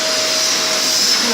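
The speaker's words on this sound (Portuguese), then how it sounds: "Aspirador." A vacuum cleaner runs continuously nearby with a loud, steady whine and a thin constant tone, droning without pause through the whole moment.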